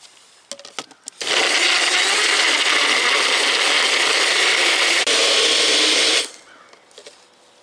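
A blender grinds frozen pineapple for a mild hot sauce, a loud, steady whir that runs for about five seconds after a few clattering knocks and then cuts off sharply.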